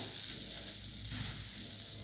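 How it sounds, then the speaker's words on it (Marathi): Sliced okra roasts on a hot tawa over a gas flame with a steady, close sizzle and a brief swell of crackling partway through, and no one speaks. "आता आपण तव्यावर ही भेंडी भाजून घेऊया"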